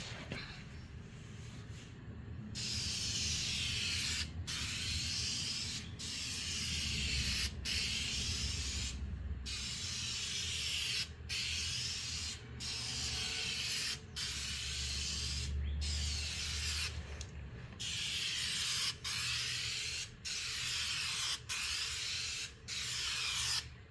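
A rattle spray can lays clear coat over a repaired MGB body panel in long, loud hissing bursts, each broken by short pauses, with a low background rumble underneath.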